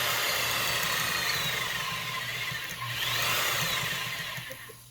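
A power drill whirs continuously at a steady high pitch, dipping briefly before spinning back up, close and fairly loud, while honing guides are worked on.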